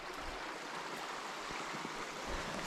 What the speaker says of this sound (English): Now that's a nice little creek.